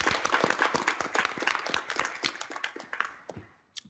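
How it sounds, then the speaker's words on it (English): Applause for graduating students at a school board meeting, a short burst of scattered clapping from a modest group that quickly thins out and fades to silence. "Please join me in a round of applause for this year's grads."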